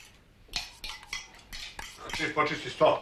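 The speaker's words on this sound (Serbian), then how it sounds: "Ja ću da opeljem sudove." Dishes and cutlery clink and clatter while being washed, with sparse knocks at first that build into denser, louder rattling close by.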